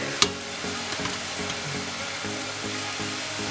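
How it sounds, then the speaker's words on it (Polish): Oil sizzles and bubbles steadily as mini yogurt pączki doughnuts fry, a continuous crackling hiss with one brief sharp clink near the start. "Pączki smażę oczywiście po obu stronach."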